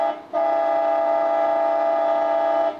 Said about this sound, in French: Vous pouvez klaxonner